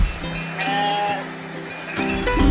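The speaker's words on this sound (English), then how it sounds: "No, these are not called the sheep, but they are the goats." Goats in a family farmyard in Madagascar bleat in short wavering calls, close and fairly clear, with several overlapping cries over about two seconds.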